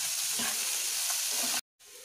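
Potato, onion and green chili fry in a pan with a steady, close sizzle and some stirring, broken off abruptly near the end before resuming more quietly.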